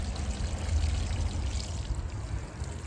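About five liters of water is poured onto freshly transplanted pepper plants in containers, a steady continuous gush and splash that stays loud and close throughout, with no talking.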